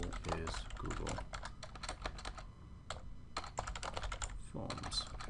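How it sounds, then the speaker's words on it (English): Fingers tap steadily on a computer keyboard while filling in a Google Forms survey, quick irregular bursts of clicky keystrokes with brief pauses, close and fairly quiet. "See my typing at my worst."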